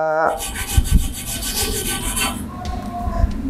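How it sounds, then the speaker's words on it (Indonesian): Mollar stainless wire brush pressed firmly and scrubbed back and forth across painted iron to strip the paint, giving a harsh raspy scraping in rapid rhythmic strokes, close up with no talk. "bahkan sampai bisa mengelupas cat dari si besi ini"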